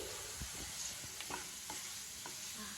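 Beetroot and carrot fry with chili powder in a pan, a steady close sizzle broken by several scraping stirs of a spoon.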